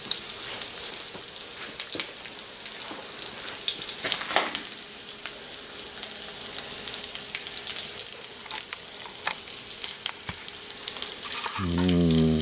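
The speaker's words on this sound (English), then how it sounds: "That's the bacon grease infiltrating the rat and putting its bacony goodness" Packrat frying in bacon grease in Texas, a steady dense sizzle and crackle with scattered pops throughout, close and continuous, ending with a brief low rumble.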